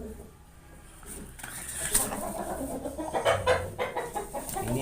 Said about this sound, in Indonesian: Ini ayam jagoan saya ini